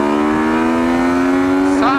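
A Yamaha MT-09 Tracer motorcycle engine winds up in third gear from about 5,000 RPM, a loud, rising buzzing tone that climbs smoothly and shifts pitch near the end, heard close from the rider.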